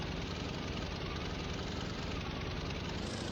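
A helicopter's engine in the video game Farming Simulator 2013 drones steadily with a broad, rumbling whir during a hard landing, constant and fairly quiet throughout, with no voices.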